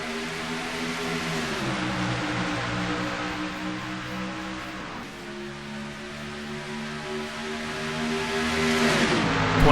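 Race cars roaring as they accelerate away from a green-flag restart on the Auto Club night oval in a racing video game, several engines layered and rising in pitch, growing louder toward the end.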